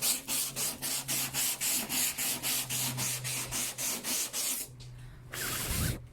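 Hand sanding of car body work with sandpaper: a close, rhythmic scrubbing of even back-and-forth strokes about three per second for nearly five seconds, then a pause with a brief rustle.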